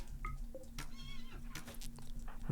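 A horse in the colony game RimWorld gives a short neigh, with a few brief whinny calls over a steady low hum of game ambience, fairly close and moderately loud.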